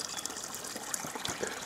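Clear spring water runs straight out of a pipe in the countryside, a soft, steady trickling gush heard faintly at close range with no voices.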